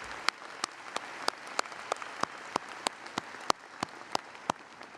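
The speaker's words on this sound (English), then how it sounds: "Let's give them all a round of applause as well." Sparse, evenly spaced claps at a university commencement ceremony, honoring a student brass ensemble, sharp individual hand strikes in a steady rhythm over a quiet room.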